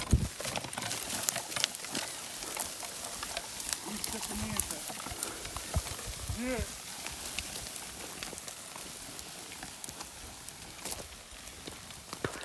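Draft horses' hooves clip-clop at a walking pace amid farmyard noise while people talk over them.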